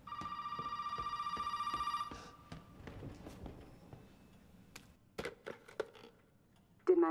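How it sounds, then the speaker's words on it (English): A telephone rings in the Resident Evil Biohazard video game, a steady bell-like tone repeating loudly for about two seconds, then cut off and followed by scattered footsteps, knocks and faint background noises. "Oh, the phone's ringing."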